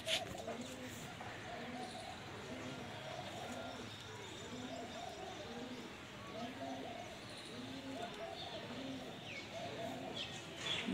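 Several pigeons coo in soft repeated rounds throughout at a Punjabi home loft, a steady close chorus with a voice talking over it now and then.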